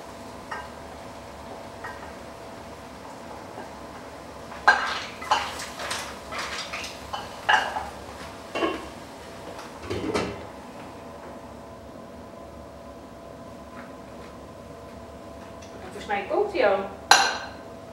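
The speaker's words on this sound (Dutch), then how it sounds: "En dan doe je het deksel erop en dan zo snel mogelijk aan de kook." Lid set onto a pot of mussels in warm Basque-style sauce, heard as metallic clinks and clatter of cookware at close range amid quiet kitchen sounds and some talking.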